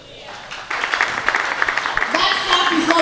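A church congregation bursts into clapping after a testimony of a broken curse, dense applause swelling from about the half-second mark and holding steady, with voices mixed in.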